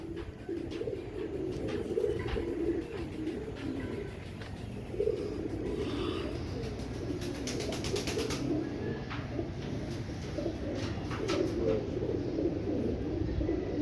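Dub Wali pigeons coo softly and steadily for the whole stretch, a low continuous burble close by, with scattered clicks and faint background noise but no talk.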